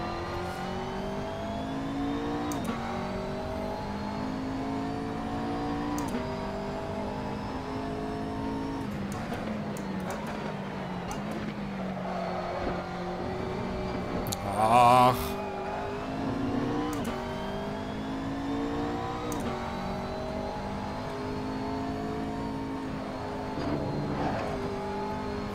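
A McLaren MP4 GT3 race car in the Assetto Corsa racing game drones steadily around the Nordschleife, its engine note rising and falling through gear shifts and revs, loud and close, with a brief sharp bump midway.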